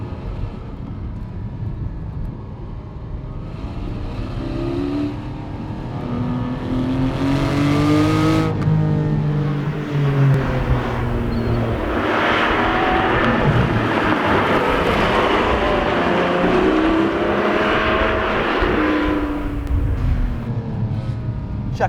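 Porsche 718 GT4 with PDK gearbox accelerating hard out of a corner, its engine rising to a loud, building roar with the exhaust on, following a quieter lower-pitched stretch.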